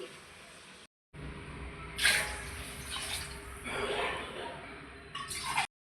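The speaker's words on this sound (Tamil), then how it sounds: "ஸோ அதுக்கு வந்து நான் 3/4 கப் தண்ணி ஊற்ற போகிறேன்" Water is poured into a cooking pot for chicken biryani, a continuous splashing and trickling that swells and fades over several seconds after a brief silence.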